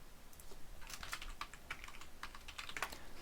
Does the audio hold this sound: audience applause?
no